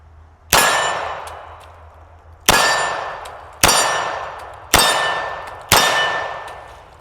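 Five loud, evenly spaced shots from a Beretta M9A3 pistol firing Federal 115 grain ammunition at about 12 to 13 yards on a range, each a hard crack followed by a long ringing decay.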